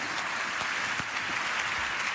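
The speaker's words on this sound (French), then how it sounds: "ça vaut la peine qu'on l'applaudisse quand même" Steady applause from an awards-ceremony audience, dense continuous clapping filling the clip with no talk over it.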